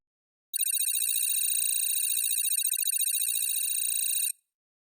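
A phone rings steadily for nearly four seconds, a bright electronic ringtone pulsing in a fast even trill, loud and close, with no voices over it.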